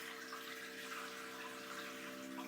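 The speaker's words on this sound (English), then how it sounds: "what it's doing is pre-wetting the bowl" A SOTOMO smart toilet pre-wets its bowl, giving a soft, steady wash of running water over a faint tonal pump hum, even and unbroken throughout.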